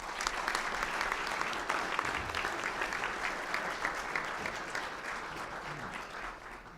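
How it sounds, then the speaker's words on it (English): A luncheon audience at the National Press Club claps steadily, a dense, even wash of applause that holds for several seconds and tapers slightly near the end. "how about a round of applause?"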